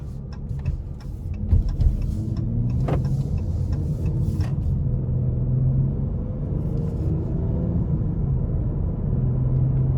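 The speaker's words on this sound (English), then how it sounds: "take this Charger SXT out on the road for a quick test drive" A 2021 Dodge Charger SXT on a road test drive gives a steady low rumble of engine and road noise inside the cabin, with a few faint ticks and clicks early on and no talking.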